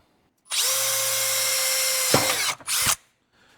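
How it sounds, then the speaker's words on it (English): A power drill whirs steadily at high speed for about two seconds, drilling holes for rib nuts, then stops, followed by a brief second burst and a short trailing sound. "Let me drill these holes and we'll put some rib nuts in it."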